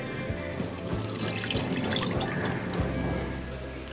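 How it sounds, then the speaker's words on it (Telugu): A full packet of milk is poured out to be measured and boiled for sweet flattened-rice payasam, a steady close trickling and splashing stream that runs unbroken for a few seconds with no voices. "మనము పాలు అనేది కొలుచుకొని కాగబెట్టుకుందామండి"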